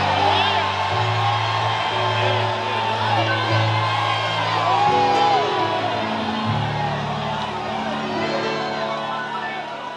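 A church congregation shouts praise together in a loud, sustained roar of voices, cheers and whoops that stays dense and continuous throughout.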